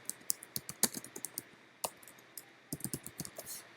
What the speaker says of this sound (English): So I'm going to type in Michael